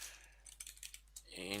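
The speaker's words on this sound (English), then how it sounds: "Type in echo, and let's type in something here." Quick, light typing on a computer keyboard, around a dozen soft clicks in an uneven burst at close range, ending as a voice begins to speak.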